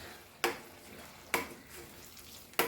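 Mashed sarson ka saag stirred into cooked onions in a pan, a quiet continuous sizzle with three sharp scrapes of a spoon spaced about a second apart.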